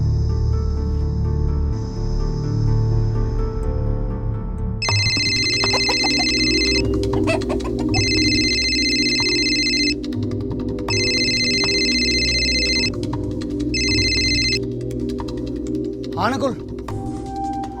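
A phone ringtone chirps in four repeated bursts, each a second or two long, over a low background hum with some talking at the start.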